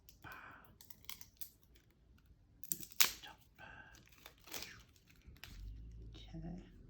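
Plastic wrap being peeled and crinkled off a collectible package: intermittent close rustling, tearing and crackling bursts with soft handling noises, a voice talking in between.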